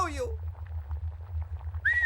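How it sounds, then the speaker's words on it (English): A person whistles softly, with a brief sliding whistle at the start and another sustained whistled tone near the end over a steady low rumble. "I can whistle softly too"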